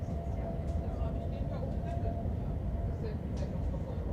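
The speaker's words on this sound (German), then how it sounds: "Hört ihr das? Der Zug ist so leise." Steady low rumble and rolling hum inside an ODEG Siemens double-deck train running fast at around 160 km/h, a quiet, even interior drone with faint rattles, and a person talking over it.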